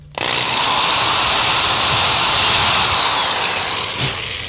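A power drill whirs loudly and steadily for several seconds while drilling into a Squier Affinity Stratocaster guitar body, spinning up sharply and slowly winding down at the end.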